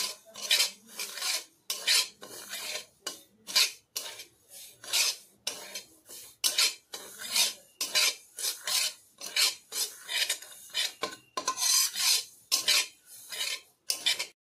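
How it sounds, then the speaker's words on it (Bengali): Repeated raspy scraping of a utensil stirring dry semolina as it roasts in a pan, in steady bursts close up, with no talking. "দিয়ে আমি সুজিটা হালকা ভেজে নেব"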